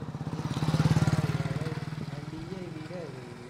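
A motorcycle being ridden close by, its engine a rhythmic putter that swells and then eases off, with a voice speaking over it toward the end.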